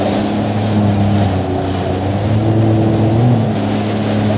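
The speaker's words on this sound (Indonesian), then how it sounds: "yang ini pun speedboat" A speedboat engine drones steadily on open water, a continuous loud motor hum with steady low tones and no talk over it.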